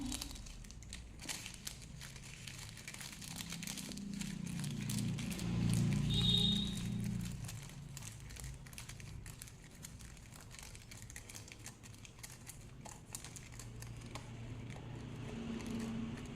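A paper sheet being rolled by hand into a mehndi cone, with soft, continuous close crinkling and rustling and a low background hum, no talk.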